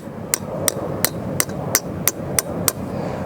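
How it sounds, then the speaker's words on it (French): A hammer drives a stake into the ground to anchor a canopy tent against the wind, eight sharp, evenly spaced metallic strikes, close and clear over faint outdoor background. "avec un marteau,"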